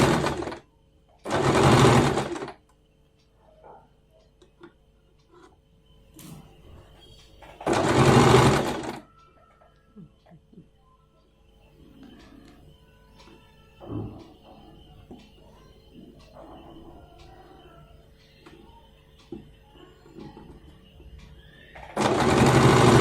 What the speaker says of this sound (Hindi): दूसरी तरफ की भी सिलाई इसी तरह से लगा लेंगे।